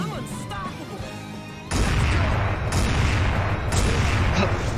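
Three rocket explosions in a video game boom out in succession, a sudden loud blast followed by sustained rumbling crashes and debris, with faint game sounds beforehand.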